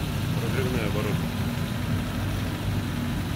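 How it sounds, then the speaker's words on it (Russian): Yamaha 50 scooter engine with freshly cleaned, synchronized carburetors idles steadily while warming up, a continuous close low-pitched drone with a brief higher whine early on. "Сейчас двигатель прогреется."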